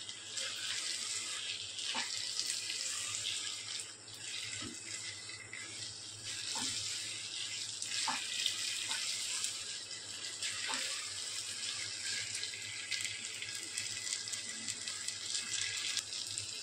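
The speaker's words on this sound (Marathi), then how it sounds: "गरम पाणी घालते मी." A steady stream of hot water runs and splashes into a pot of prawn khichdi, continuous and close, with small clinks and knocks scattered throughout.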